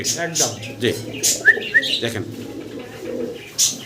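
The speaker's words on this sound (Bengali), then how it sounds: "খুব সুন্দর কবুতরগুলো" Fancy pigeons at a bird seller's stall coo and chirp in short scattered calls, with soft low cooing running underneath and background voices murmuring nearby.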